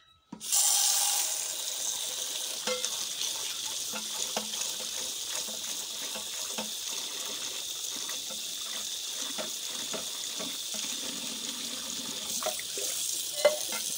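Water runs from a tap into a chickens' drinker, starting abruptly and then gushing steadily at close range with small splashes and clinks, no talking.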